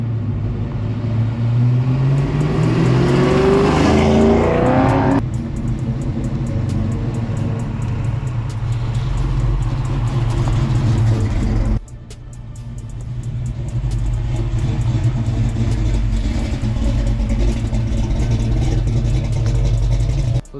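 A Fox body car powered by a 331 stroker engine drives hard on pavement, loud rumbling exhaust rising through revs, then a brief lift and renewed pull, close and dominant with no talk.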